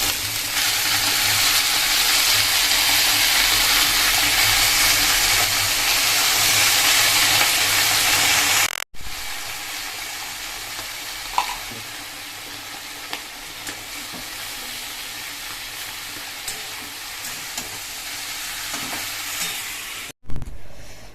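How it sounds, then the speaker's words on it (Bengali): Spinach goes into a pan of frying eggplant, cooked without spices, producing a strong, continuous sizzle that drops to a quieter crackle partway through, with occasional stirring clicks. "আর এই দেখো এবার হচ্ছে দিয়ে দিলাম শাক"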